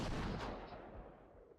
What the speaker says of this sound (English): The roar of a cannon interrupted Nagakura and the room immediately fell silent